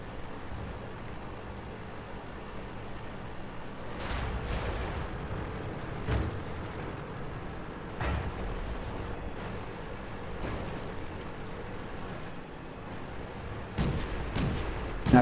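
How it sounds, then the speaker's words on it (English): A light M5 tank in World of Tanks unloads its autoloader clip, a series of distant, booming cannon shots spaced a couple of seconds apart over steady engine rumble. "Don't know what this M5's shooting at, but he unloads the clip."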